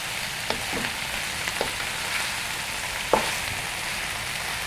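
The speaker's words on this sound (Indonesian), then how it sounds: "Kita aduk dulu sebentar ya." Squid and eggs fry loudly in a pan with a constant broad sizzle, broken by a few scraping stirs of a utensil near the start and a sharper knock just after three seconds.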